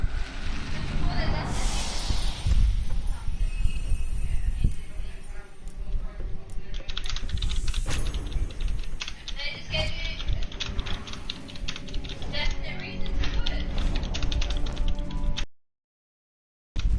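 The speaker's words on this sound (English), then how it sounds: "Doing some furious typing there." Fast, furious typing on a computer keyboard clatters steadily for about fifteen seconds over game audio and background sound, with dense overlapping keystrokes before it cuts out abruptly.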